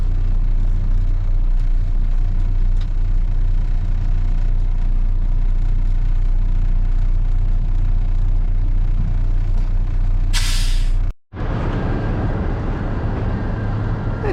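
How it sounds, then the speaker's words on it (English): A semi truck idles and rumbles steadily while backing under a trailer to hook up, with a loud air-brake hiss near the end followed by a brief silence and the engine resuming. "Backing under my trailer if you're wondering."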